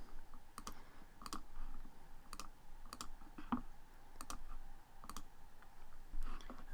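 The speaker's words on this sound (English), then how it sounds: "I'm going to click on the top 3 results." A computer mouse clicks on search results in a steady series of sharp, quiet clicks, roughly every half second, over faint background hum with no speech.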